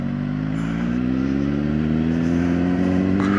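A CFMOTO 750SR-S motorcycle engine revs from first-gear idle, the tone rising smoothly and steadily as throttle opens, loud and close, with a brief mechanical clatter near the end.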